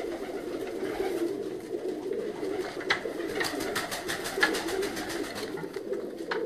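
Pigeons cooing at night in a fancier's loft, a steady low murmur of overlapping coos with occasional sharper calls and wing rustles, fairly close and continuous.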